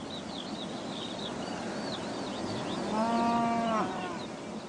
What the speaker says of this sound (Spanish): No son las mismas vacas, pero son de la misma raza.